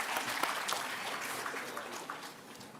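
An audience at a RISC-V technology symposium applauds, a dense patter of many hands clapping at moderate volume that holds steady and then gradually thins out.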